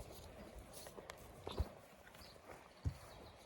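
A young colt moving nearby, with a couple of dull hoof thuds and soft shuffling steps over quiet background noise.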